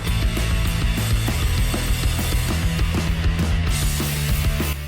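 Bolts come out of the body of a Shimano Stradic FL1000 spinning reel after saltwater immersion, with a continuous close, loud grinding mechanical clatter and rapid ratchet-like clicks throughout and no talking.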